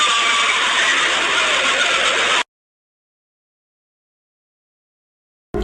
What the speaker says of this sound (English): It's the sound of masses of people screaming in torment.